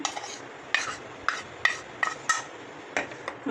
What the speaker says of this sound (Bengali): ভালো করে একটা মিশ্রণ তৈরি করে নিচ্ছি